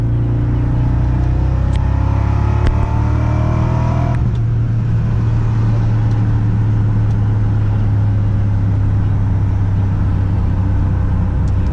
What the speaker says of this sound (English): It sounds raspy with the broken exhaust, I'll say that.